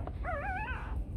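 A white, fluffy-coated Bac Ha puppy whimpers while nosing for its mother's teat: one close, thin, wavering whine lasting about half a second over a low background rumble.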